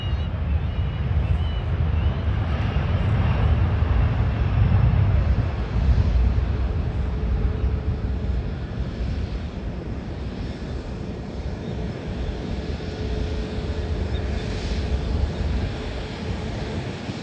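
An airliner taxis on the apron at Tashkent airport, its jet engines producing a steady, loud roar with a low rumble and some wind buffeting throughout.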